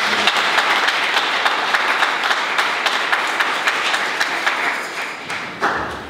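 A church congregation at a celebration mass applauds loudly and steadily, dense sustained clapping filling the whole stretch with a slight swell near the end.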